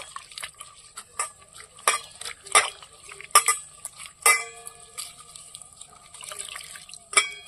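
Water is poured into a fuchka filling of mashed potato and lemon in a bowl, producing intermittent splashes, drips and squishy stirring sounds, close and moderately loud.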